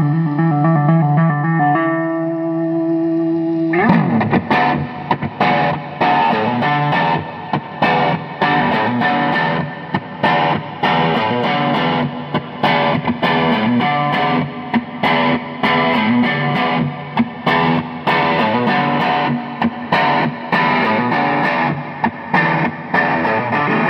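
Distorted electric guitar from a Gibson Les Paul with a Bigsby, played on the neck pickup through a 1966 Fender Pro Reverb amp. A few sustained notes open before a dense, loud stream of driven chords and riffs, with no voices.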